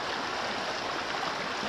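Plenty River running low through Plenty Gorge Park, a steady broadband rush of flowing water that stays even and continuous from start to finish, with no voices over it.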